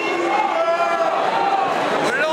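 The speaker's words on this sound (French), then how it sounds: "Au salon des vignerons indépendants jeudi, arrivée du ministre sous les huées" A dense crowd boos and jeers loudly and continuously as French minister Stéphane Le Foll arrives at the independent winemakers' fair, many voices overlapping into one sustained roar.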